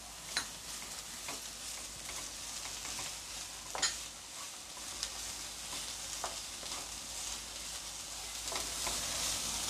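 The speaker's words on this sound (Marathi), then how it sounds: "आता याच्यामध्ये मी भाज्या घालून घेते। आता हे मी पूर्णपणे परतून घेते।" Mixed vegetables for a winter soup sizzle and sauté steadily in a pan, with a continuous hiss broken by occasional sharp ticks of a spatula stirring close by.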